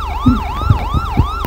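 Wailing police siren in the video game Melon Playground, a loud rising-and-falling electronic tone repeating steadily with a few low thuds beneath.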